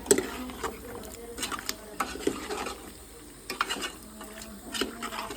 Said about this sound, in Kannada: ಕಾಶ್ಮೀರಿ ಚಿಲ್ಲಿ ಪೌಡ್ರ್ ಹಾಕಿ ಸ್ವಲ್ಪ ಫ್ರೈ ಮಾಡಿಕೊಂಡು